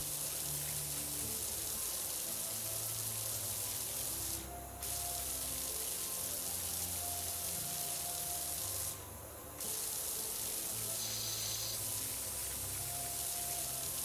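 Steady hiss of a pressure washer spraying water in Powerwash Simulator, loud and continuous throughout, with two brief dips where the spray cuts out and no voices.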